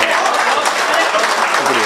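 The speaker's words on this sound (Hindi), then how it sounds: "तालियां बजाएं दोस्तों" Loud, dense applause from a crowd fills a mushaira poetry recital, a sustained wash of clapping with faint voices mixed in.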